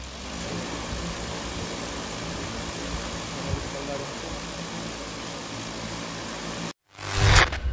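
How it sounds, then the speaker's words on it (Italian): A DJI M600 Pro hexacopter drone has its motors armed for a check outdoors, giving a steady, close whirring drone throughout, then a short cutout and a louder surge at the end. "armiamo i motori giusto per fare un check"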